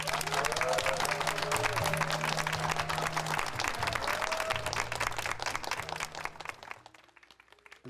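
A lecture audience applauds to welcome a foundation chairman onto the stage at a Donghak Peasant Revolution 120th anniversary talk: dense, steady clapping for about seven seconds with a low tonal hum beneath, thinning and fading near the end.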